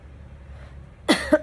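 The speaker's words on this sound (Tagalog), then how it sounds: "May ubo ako pero kunti lang." After a moment of quiet room noise, a person gives two or three quick, close coughs in a short burst.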